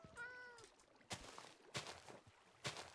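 A Minecraft cat gives a short meow, followed by quiet blocky in-game thuds and scrapes as a player digs a hole downward, with light game ambience and no talk.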